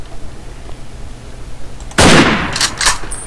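A sudden gunshot burst rings out in a Minecraft Fallout roleplay game, followed by a few quicker follow-up cracks and a fading tail, loud and close against a quiet background.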